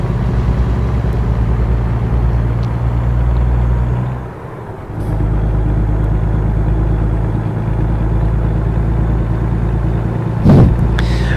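Truck engine in the driving game American Truck Simulator, a loud steady drone that dips briefly then holds as the truck speeds up, with a short hiss of air near the end and no talking.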